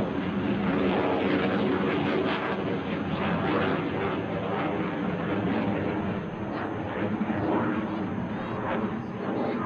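An F-104 Starfighter jet roars at an air show in Hampton Roads, a loud, sustained broadband rush that stays strong throughout as it flies toward show center and pulls up.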